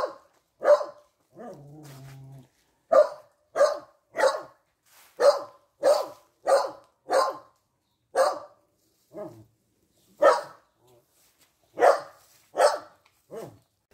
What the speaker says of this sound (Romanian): printre sunetele unui cățel